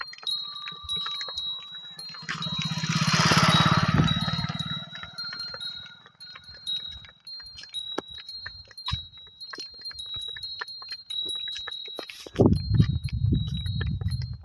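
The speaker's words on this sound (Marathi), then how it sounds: "समोरून एक गाडी आली, मोटरसायकल।" A motorcycle approaches and passes on a rural village road beside cotton fields, a rising engine roar that swells near the start and fades away, amid jangling bells from nearby bullocks.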